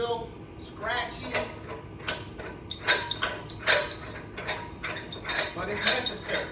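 A metal gas cylinder valve grinds and scrapes in short, uneven turns, scratchy and close, with clinks and squeaks in a stop-start rhythm.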